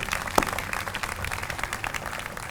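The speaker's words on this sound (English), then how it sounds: "Let's give them a round of applause." Audience applause for an ROTC color guard after the presentation of the nation's colors, a steady wash of many hands clapping, moderately loud and sustained throughout with no talk over it.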